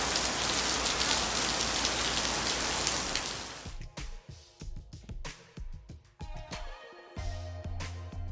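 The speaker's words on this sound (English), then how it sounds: "Now, we're about to have our beach day, and it started to rain." Rain at a Miami beach, a dense loud hiss of drops for the first few seconds, then cutting off to scattered close taps and thuds.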